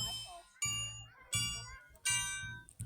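Small bells ring at a festival celebrating the 200th anniversary of Gütersloh, Germany. Three bright struck chimes ring out about a second apart and fade, fairly quiet, with faint voices behind them.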